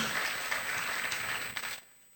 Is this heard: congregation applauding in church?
yes